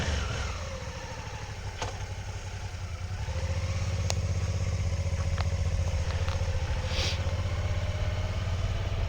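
A motorcycle engine hums steadily up close, rising slightly in level partway through, with wind rush and no voices.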